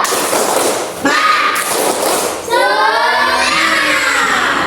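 A school class does a rhythmic spirit clap, loud thudding group claps in short bursts mixed with children chanting and shouting together.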